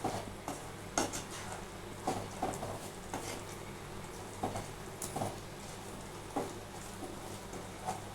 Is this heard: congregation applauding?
no